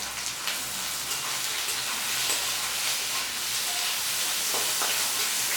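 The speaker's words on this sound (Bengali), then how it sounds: "পেঁয়াজটাকে হালকা পিঙ্ক করে ভেজে নেব, খুব বেশি কড়া করে না।" Chopped onion, crushed garlic and slit green chillies fry in oil for a fish dish, making a continuous close hiss and sizzle at even loudness.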